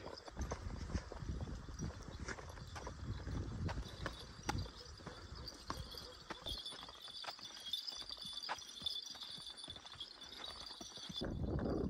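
A decorated mare walks along near Ganga Choti, her hooves clip-clopping on hard ground in a steady, fairly close rhythm while faint metallic jingles of tack sound. A brief voice or rustle is audible near the end.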